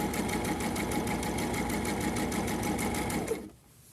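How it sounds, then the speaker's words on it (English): A sewing machine runs steadily, stitching a seam down a fabric grocery bag holder, with a fast even whir that stops abruptly near the end. "so now we'll just sew all the way down"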